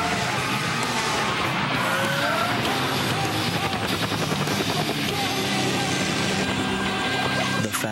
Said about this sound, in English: E30 sports sedan with a supercharged compressor engine